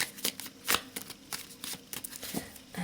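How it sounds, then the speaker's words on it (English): Tarot cards are riffle shuffled up close, with quick fluttering bursts of cardstock snapping as the deck is split and bridged several times. "let's try a riffle."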